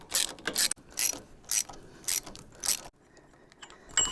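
A ratchet fitted with a swivel extension turns motorcycle riser bolts, giving close, crisp bursts of rapid clicking in several short strokes separated by brief pauses.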